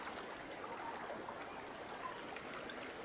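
Floodwater from an overflowing river rushing past a house during a typhoon in Leyte, a steady broadband wash with a few faint drips and ticks, moderately distant.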